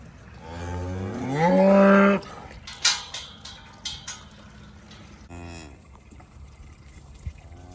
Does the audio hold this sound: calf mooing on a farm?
yes